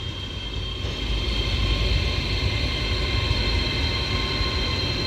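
Avanti West Coast class 805 train idling at Chester station, a steady low diesel rumble with a constant whine and broad noise throughout, close and fairly loud with no talk.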